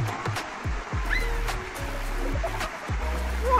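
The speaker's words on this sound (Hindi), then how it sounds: "तो आज हम आए हैं थोड़ा नदी की तरफ, नदी वगैरह देखने के लिए।" A river flows steadily near a village around Ranikhet, giving a constant rushing wash of water with a few low bumps, fairly close and without speech.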